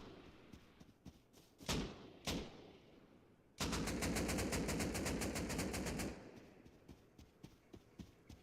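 Rapid AK rifle gunfire rings out in the video game Rust. A few single shots are followed by a sustained automatic burst of about two and a half seconds, then scattered lighter thuds.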